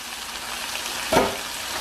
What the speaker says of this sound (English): So now I'm going to add my broccoli